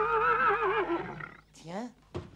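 An animated knight's horse, a faithful steed resting after a hard day, gives a loud, wavering neigh followed by a shorter rising whinny and a snort, close and clear.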